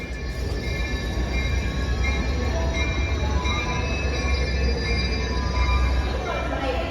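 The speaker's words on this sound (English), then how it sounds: "Our train is here and they've opened the doors." A steady Caltrain Baby Bullet commuter train rumble fills a station with faint high metallic whines and squeals, and voices murmur underneath.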